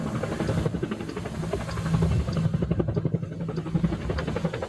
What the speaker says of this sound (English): I hear the helicopter come in.